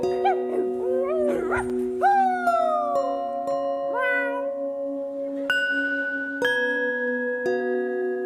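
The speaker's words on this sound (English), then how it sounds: "The watchdogs bark." Dogs howl and whine in long, wavering tones, with a few short yelps at the start, over a sustained droning background.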